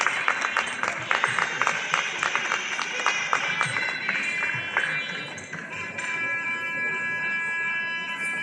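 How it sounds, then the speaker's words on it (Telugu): Audience clapping welcomes a guest at a Kuchipudi Yakshagana dance performance, with rapid uneven claps fading into a sustained electronic tone toward the end. "గట్టిగా చప్పట్లతో వారిని ఆహ్వానించాల్సిందిగా"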